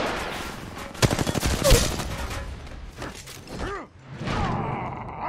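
Rapid gunfire in a competitive first-person shooter match, a fast burst of shots followed by scattered single reports, mechanical clicks and a sweeping whoosh, loud and close with no talk over it.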